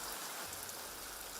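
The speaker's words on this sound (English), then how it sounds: "The dawn of a new day, and it's raining again." Steady rain falls through a passing shower at dawn beside a river camp, a continuous soft hiss of drops with no voices.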